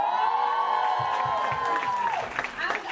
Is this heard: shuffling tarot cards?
no